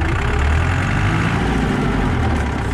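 The diesel engine of a Massey Ferguson 178 or 168 tractor runs steadily in gear. It is loud and close, with a constant low rumble and no talk over it.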